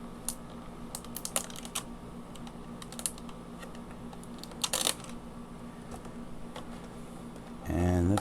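Sharp clicky crackles and tearing snaps as tape is peeled off inside a Samsung Level U Pro headphones box, irregular close bursts over a steady hum, ending in louder handling rustle.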